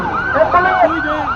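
An ambulance siren wailing close and loud, its rising and falling tones sweeping up and down over traffic noise, with no clear speech.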